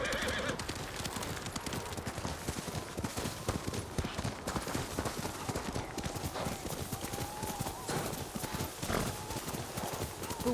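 Horse hooves clip-clop at a steady trot through snow in a video game, with a horse whinnying and voices talking over the hoofbeats.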